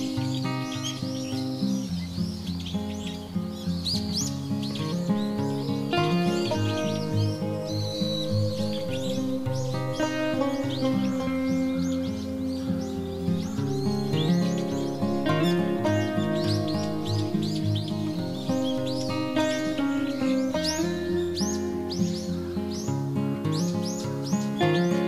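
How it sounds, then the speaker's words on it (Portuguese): Small birds chirp and tweet steadily at a feeder stocked with couscous in rural Minas Gerais, Brazil, a dense, close, continuous chorus of overlapping calls with no talking. "Alimentando os passarinhos, pra ver se vai dar certo."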